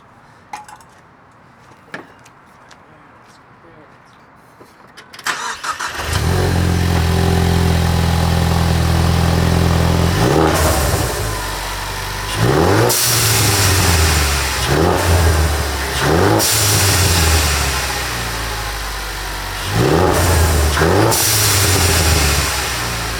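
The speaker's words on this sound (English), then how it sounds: "we're going to start it up, check, make sure there's no misses" A Ford Mustang EcoBoost engine, freshly fitted with new plugs and an oil separator, cranks and starts after a few quiet seconds, then idles loudly with several sharp revs rising and falling, close by and without talk.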